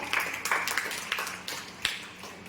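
A school farewell audience claps to honour a student, irregular hand claps with a few sharper individual claps standing out over a steady background of applause in a hall.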